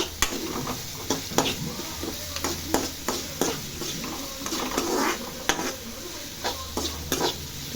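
Steady sizzling of onions frying in a pan, with repeated stirring scrapes and clinks of a utensil against the pan throughout.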